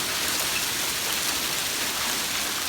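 Hail pours down and bounces off a neighbouring roof in a March 2020 storm in San Bernardino, California, a dense, steady hiss of countless small impacts with no pauses and no voices.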